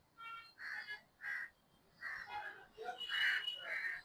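Crows perched above a garden lawn being treated for insects, cawing repeatedly in short, evenly spaced calls, with a quicker, denser cluster toward the end, clear and moderately near.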